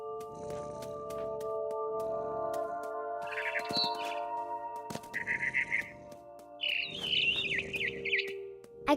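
A mother bird chirps in the video game What Remains of Edith Finch, with short bright bursts of calls repeating over a steady droning game ambience and low rumbling.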